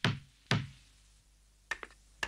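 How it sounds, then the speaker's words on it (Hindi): Someone knocks on a door: two loud, separate thuds half a second apart, then a pause, then a quicker, lighter cluster of raps, all close and sharp with no talk. "सुनिए, दरवाजा खटखटाने से कोई फायदा नहीं"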